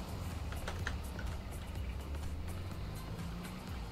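A car engine rumbles steadily nearby in a video game roleplay scene, a low continuous drone with faint whooshes above it and no talking.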